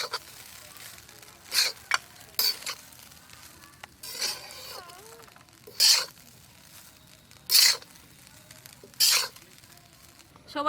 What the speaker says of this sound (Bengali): ভাত দিয়ে একটু ভালো করে ভেজে নিয়েছি